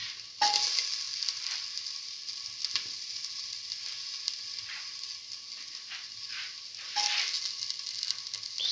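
Ginger frying in hot oil, a close, steady hiss of sizzling with a few light stirring clicks, the sizzle swelling sharply at the start and again later as more goes into the pan.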